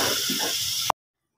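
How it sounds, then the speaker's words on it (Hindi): A small splash of water poured into a pan of keema and egg masala gives a short steady hiss and trickle, ending in a sharp clink before silence. "इसमें थोड़ा सा पानी डाल दूंगी"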